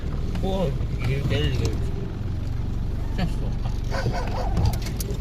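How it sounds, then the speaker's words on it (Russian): Several hunting and guard dogs bark and yip repeatedly nearby at a hunting dog kennel in Yakutia, mixed with voices talking and a low rumbling background. "И уже вот собаки встречают нас."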